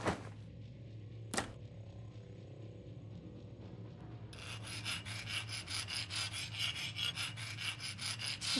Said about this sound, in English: It's just that easy. Use a hacksaw.